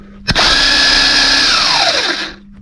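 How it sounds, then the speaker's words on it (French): The motor of a Parkside X20 cordless battery pressure washer kicks on with a click, whirs at a steady high pitch for about two seconds, then spins down and fades, close and loud. "c'est l'interrupteur qui déclenche le moteur"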